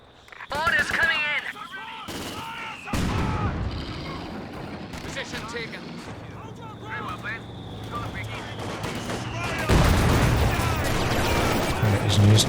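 Autocannon fire in Company of Heroes 2, heavy rapid shots thumping in bursts amid artillery-like booms and other battle noise, loud and close, with a voice talking over parts of it.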